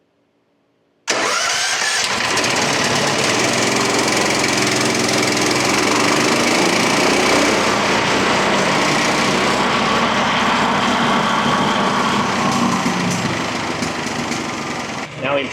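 A MechMaxx P4205 15hp wood chipper's gasoline engine starts abruptly after a moment of quiet and immediately revs high, a loud, close, sustained roar that holds steady for the rest of the clip.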